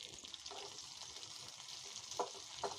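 Onions with bay leaf and panch phoron fry in hot oil for a dal tempering, giving a soft, steady sizzle with a couple of brief louder crackles near the end and no speech.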